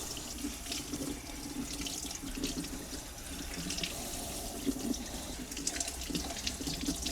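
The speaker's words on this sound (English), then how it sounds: "we have to clean our fruit and start rinsing off your fruit" Tap water runs steadily into a sink while fruit is rinsed, a faint, continuous splashing hiss with small shifts as the stream hits the produce, and no talking.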